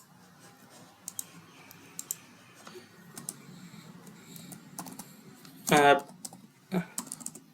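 Typing on a computer keyboard during a software tutorial, soft scattered key taps and clicks with a brief louder burst near the end, under a quiet voice.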